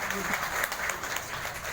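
An audience claps at a community event in a Bangalore hall, a dense steady patter of many hands over a brief stretch, mixed with a voice speaking over it.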